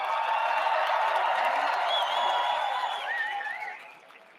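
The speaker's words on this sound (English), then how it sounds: "Can you please join me in a round of applause for our military families?" Audience applause and cheering from a large crowd at a formal military inaugural ball, loud and steady with a few whoops over the top, fading near the end.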